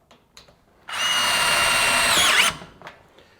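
A power drill drives a screw into sheet metal duct during onsite fabrication, a loud continuous whir of about a second and a half that rises in pitch just before it stops.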